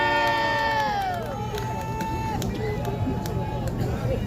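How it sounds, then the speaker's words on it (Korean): A large outdoor street-rally crowd cheers and roars to welcome a professor to the stage, a dense, steady wash of voices and shouts that holds loud throughout. "박수 한번 주세요."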